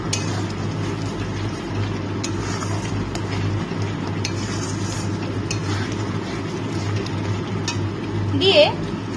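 Masala with sugar, turmeric and Kashmiri chilli powder sautéed and stirred in a pan for a curd chicken and capsicum curry, a continuous close hissing sizzle with occasional scraping and a small squeak near the end.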